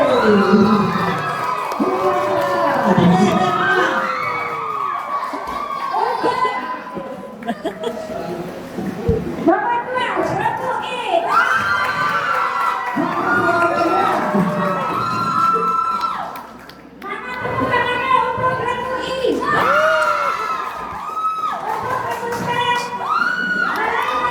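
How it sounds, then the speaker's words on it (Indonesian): A crowd at a Quran comprehension competition final in Sambo, Kutai Kartanegara, cheers and shouts loudly and continuously. Excited voices, whoops and children's shouts pile on top of one another, with a brief dip partway through. "Mana tepuk tangannya untuk Republik?"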